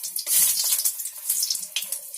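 Lentil dumplings (bori) frying in hot oil in a pan, giving a loud, steady, close hiss and crackle throughout.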